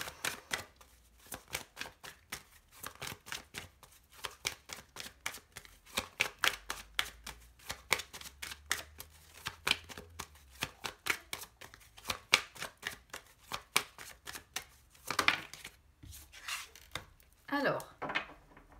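Tarot cards shuffled and laid out for a reading, a long run of crisp flicks and soft slaps repeating at an irregular pace, fairly quiet and close, with a few louder riffles near the end.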